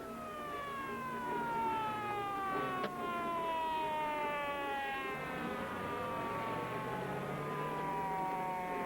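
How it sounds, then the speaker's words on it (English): A police siren wails with a long, slowly falling tone, loud and sustained over a steady rumble of traffic, no voices. "Police car."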